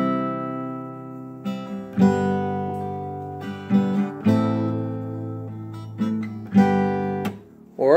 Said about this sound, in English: So if you were just to strum it, it would sound something like this.